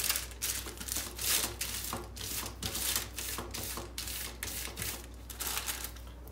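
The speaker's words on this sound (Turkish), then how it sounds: "Şimdi üzerine kapak yapıyorum yağlı kağıtla" Parchment paper is crinkled and pressed over food in a toaster, giving a series of close, rhythmic rustling and crackling bursts that repeat over several seconds without talking.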